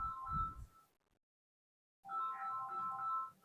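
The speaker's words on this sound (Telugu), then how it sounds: "ఫోన్ల మీద ఫోన్లు, ఎవరో చూడు." A phone ringtone plays a bright repeating electronic melody, pausing into about a second of silence before the tune resumes, fairly quiet and with no talking over it.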